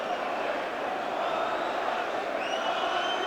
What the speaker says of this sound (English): the Reading crowd are taunting them with cheerio